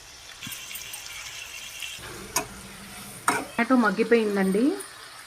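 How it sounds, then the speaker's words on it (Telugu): A full tablespoon of sesame seeds drops into a cooking pan of cauliflower and stuffed brinjal curry, giving a soft crackling sizzle and a few stirring clanks before a voice starts speaking near the end. "ఒక ఫుల్ టేబుల్ స్పూను నువ్వులు యాడ్ చేస్తున్నానండి ఉడికేటప్పుడు"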